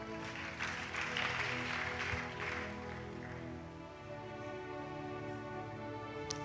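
Church congregation clapping and cheering in acclaim of the Holy Spirit, a sustained wash of applause that swells early then settles, with sustained musical tones underneath and no talk.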